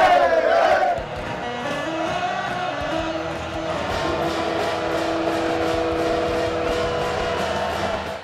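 A homecoming crowd at a college football game, UCF Knights hosting SMU, roars loudly with a sharp burst at the start, then holds a sustained, dense wall of cheering and chanting throughout.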